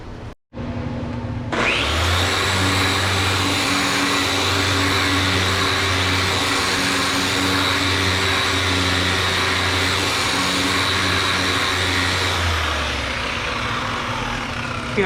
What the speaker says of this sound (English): I'm using my 6-inch orbital sander. I just started. That's 100 grit